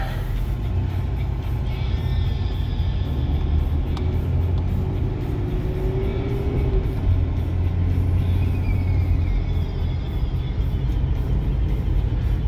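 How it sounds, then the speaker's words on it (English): A 1989 Plymouth Grand Voyager van on the road, with a steady, loud engine and road rumble and faint tyre and wind noise filling the cabin, holding evenly throughout with no talking. "at least just kind of get a driving video of the van"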